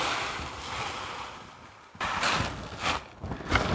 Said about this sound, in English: we're going to go ahead and pour in the 1/4 inch material first, okay, or the 1/4 inch gravel